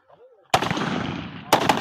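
Gunshots ring out at firing practice. One loud, sharp report with a long decaying tail follows a faint voice, then two more quick, close shots come at the end.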